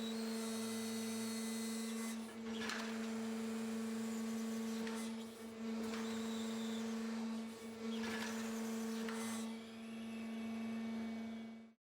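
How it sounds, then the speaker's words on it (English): Rotation unit of a 130 exploration drill rig turning clockwise to tighten a drill rod joint, a loud steady mechanical drone with a strong constant hum and brief dips in intensity, then cutting off at the end. "The rotation lever is pushed forward for clockwise rotation and the rod joint is tightened."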